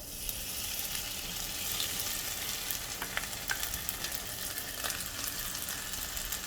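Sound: pancake batter frying in hot oil

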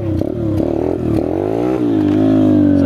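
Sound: Chinese dirt bike engine revving, throttle gunned in first gear

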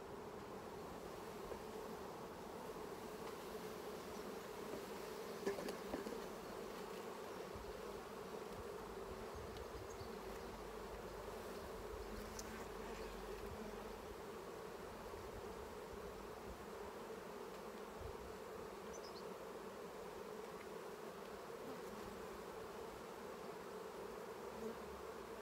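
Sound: honeybees buzzing during a beehive inspection

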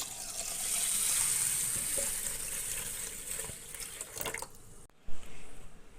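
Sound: washing rice with running water

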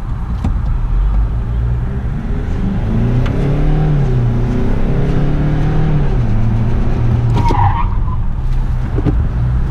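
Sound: Volkswagen Amarok 2-litre diesel engine accelerating

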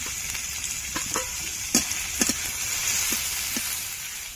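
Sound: onion, tomato and minced chicken frying in a pan

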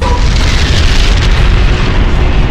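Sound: oxygen tank explosion

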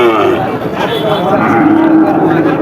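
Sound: bull cattle mooing at market

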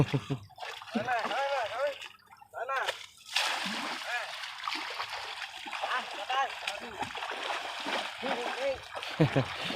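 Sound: water splashing while bathing and scrubbing an elephant

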